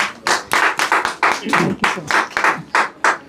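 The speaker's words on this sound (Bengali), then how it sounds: "প্রত্যেকে বলবো একটু তালি হয়ে যাক ম্যাডামের জন্য" An audience at a jewellery store event claps for a visiting brand ambassador, a run of loud, regular bursts of hand claps close by, with voices mixed in.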